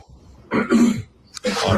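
A man clears his throat twice in an office, two loud, rough, close bursts separated by a short pause.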